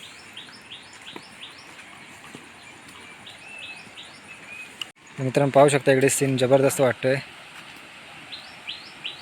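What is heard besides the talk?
birds calling in a forest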